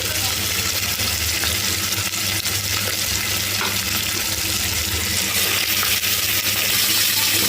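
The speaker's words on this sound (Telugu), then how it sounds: "ఇప్పుడు దీంట్లో మనం శుభ్రంగా కడిగి ఉంచుకున్న ఈ నాటుకోడినంతా వేసుకోవాలి" Pieces of country chicken tipped into hot oil with onions and ginger-garlic paste in a pressure cooker pan, giving a steady, close sizzle and frying hiss with light stirring scrapes throughout.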